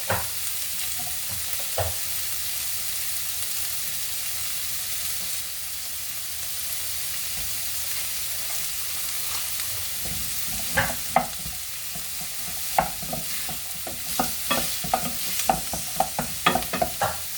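A spatula stirs vegetable bouillon cubes into sautéing vegetables and ground beef in a pot, over a constant sizzle, with scraping strokes growing more frequent toward the end.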